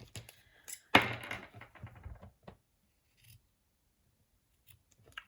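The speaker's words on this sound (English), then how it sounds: "I need to get my new snips out" Small new craft snips cutting ribbon, one sharp close snip followed by a few faint clicks and rustles in a quiet room.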